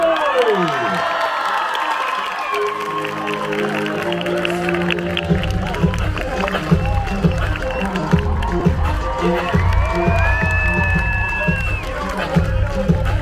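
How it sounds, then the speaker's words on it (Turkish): A crowd roars with cheers, shouts and applause as volleyball player Cansu Özbay, of the Turkish women's national team, walks on stage at a celebration event. The loud, continuous din is full of overlapping voices. "Güçlü alkışlarla geliyor Cansız Bey."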